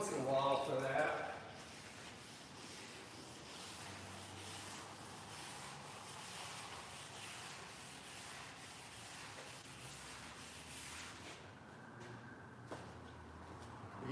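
Steady rough sanding rasps continuously, fairly quiet and even, with a brief voice at the start.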